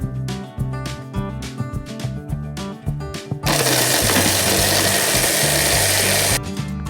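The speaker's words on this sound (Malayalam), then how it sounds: "ഞാനൊരു ചോപ്പർ ഉപയോഗിച്ച് ചെറുതായി ചോപ്പ് ചെയ്തെടുക്കുന്നു." An electric food chopper whirs loudly and steadily for about three seconds, chopping onion, after a stretch of rhythmic clattering and knocking noises close by.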